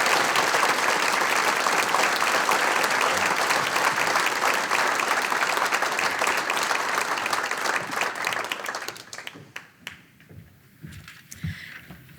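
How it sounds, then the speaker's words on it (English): Sustained audience applause at the 45th annual Abe Lincoln Awards of the Kiwanis Club of Indianapolis, a dense clapping from a large crowd that carries on steadily, then thins into scattered claps before fading. "everyone, please give her a round of applause."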